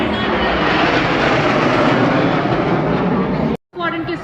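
Sukhoi Su-30MKI fighter jets roar past over a Republic Day parade at India Gate, a loud, steady broadband rumble sustained throughout before cutting off abruptly near the end, with crowd or commentary noise faintly after.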